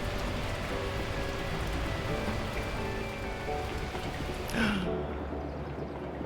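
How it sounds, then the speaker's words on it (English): Steady heavy rain in a video game pours down continuously, a dense hiss of drops on surfaces, with a brief faint sweep near the end. "the heavens opened up, unleashing torrential rain"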